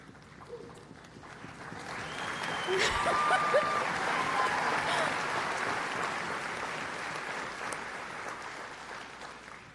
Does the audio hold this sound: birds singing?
no